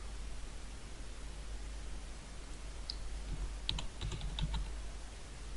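Typing on a computer keyboard to run a search: a short burst of light, quick key clicks near the end, faint and close over a steady background hiss.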